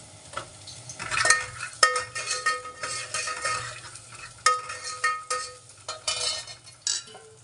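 Garlic and asafoetida frying in oil, with crackling sizzle and frequent metal spoon scrapes and clinks against the pan in uneven bursts, close up and without talking.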